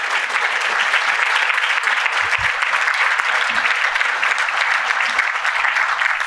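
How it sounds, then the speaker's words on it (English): Steady, dense audience applause for Chicago's Chief Financial Officer Jenny, a large crowd clapping evenly and loudly throughout without pause. "Please give Jenny another round of applause."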